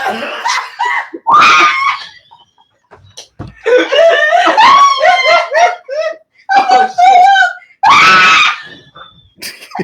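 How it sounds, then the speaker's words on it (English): A woman screams in several loud, close, high-pitched bursts separated by short pauses, with other voices around her. "She's screaming."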